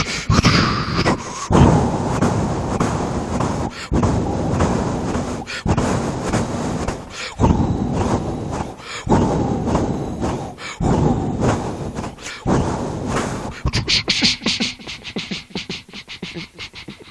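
A voice imitates a high-speed train crossing a bridge: a continuous, loud rumbling rush broken by short regular gaps, turning into quicker, sharper rattling pulses near the end, with no other talk.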